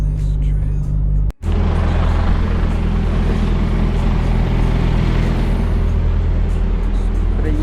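A long-haul truck drives along, its engine a steady, close, low rumbling drone that continues throughout after a brief cut early on.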